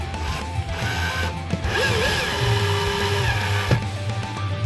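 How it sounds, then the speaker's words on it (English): Drill boring a fresh hole to fit a security fixture, a continuous whirring grind under steady background noise, with a brief pitch wobble and a sustained tonal whine before a sharp knock. "we'll drill a fresh hole for this side"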